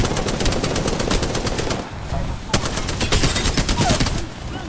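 Rapid automatic gunfire in Apex Legends, dense bursts of shots fired close by, a short pause near the two-second mark, then more volleys rattling on to the end with some speech mixed in.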